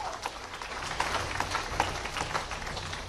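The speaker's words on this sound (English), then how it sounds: "please give him a round of applause" Sustained applause from a crowd at an academic awards ceremony, a dense patter of many hands clapping at an even level throughout.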